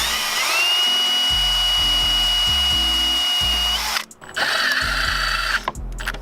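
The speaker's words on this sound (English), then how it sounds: "And now you're ready to pre-drill and set the screws." A power drill whines steadily for several seconds while pre-drilling and driving screws into deck railing, then cuts out briefly and starts again for a second run, all over light background music.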